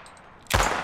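A single punchy pistol gunshot built as a sound effect from a firecracker recording, a sharp loud crack with a short decaying tail after a brief quiet lead-in.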